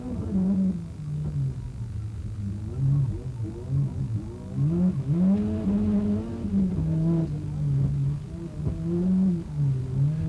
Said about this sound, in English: Graham Middleton, his Ford Sierra Cosworth, a two-wheel drive version